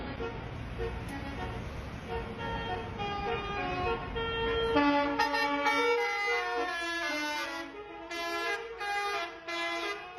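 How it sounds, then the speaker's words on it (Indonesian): Buses sound melodic telolet horns while passing on a road, with repeated tuneful horn toots layered over traffic rumble and moderately close, the horns growing clearer and more rhythmic as they continue. "Alunan klakson telolet yang khas dari bus-bus tersebut menggema di sepanjang jalan"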